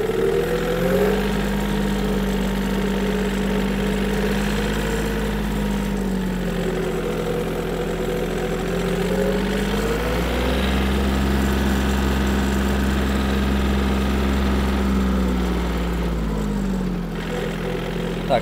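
The engine of a Yanmar F-210 Japanese mini tractor runs close by, loud and steady. It drones at a constant idle with small shifts in pitch, and no voices are heard over it.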